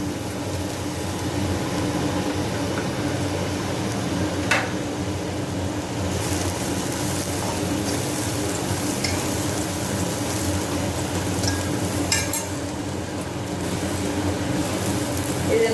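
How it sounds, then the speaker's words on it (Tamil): Coconut roasting in a pan for Karthigai pori, giving a continuous dense crackle and sizzle with a couple of brief sharp clinks. "தேங்காயை போட்டு வறுத்துக்கணும்"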